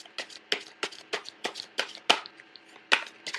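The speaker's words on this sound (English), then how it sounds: "So I'm going to pull out the rest of the cards first" Tarot cards drawn one after another from a deck: a quick series of soft, crisp card snaps and slides in an irregular rhythm, close and fairly quiet.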